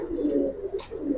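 Silver Giribaz pigeons coo in a low, steady rolling murmur with one brief higher flutter partway through, close and continuous over about a second.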